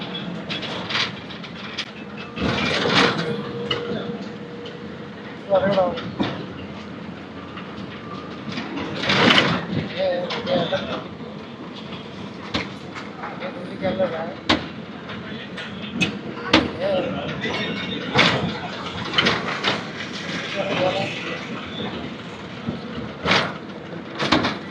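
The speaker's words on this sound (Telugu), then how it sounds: "ఏదో ట్రైన్ వస్తుంది, గేట్ వేస్తున్నాడు." A train approaches a railway level crossing near a station in Andhra Pradesh while the gate is lowered, its rumble and rail clatter heard from a passing bus over steady road and engine noise, with occasional sharp knocks.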